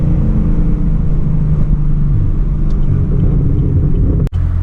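A 2017 Chevrolet Camaro SS engine makes a loud, steady low rumble on a pull, with a brief dropout near the end and no speech.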